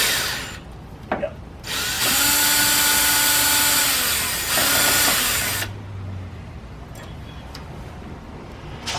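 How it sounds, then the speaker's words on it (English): A power tool spins a deep well socket to remove a radiator bolt: a few sharp clicks, then a loud, steady, whining run of several seconds that surges briefly before stopping, followed by light metallic rattles close by. "I believe I can get this off with my deep well socket."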